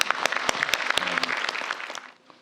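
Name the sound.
audience applause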